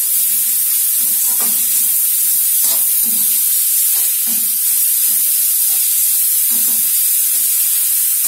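Grated cabbage and carrot fry in a hot pan with a loud, continuous close-up sizzle, broken by a few soft stirring knocks against the pan.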